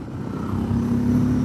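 A 300cc motorcycle engine drones steadily and rises slightly in pitch as it shifts into sixth gear, close and moderately loud.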